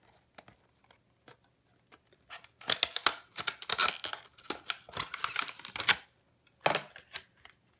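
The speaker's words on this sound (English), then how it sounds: "I just got this USB-C adapter for the Nintendo Switch and I'm about to open it." Packaging of a Nintendo Switch USB-C adapter being opened by hand, a series of close crinkling, tearing and clicking bursts, sparse at first, then denser, with quiet pauses between.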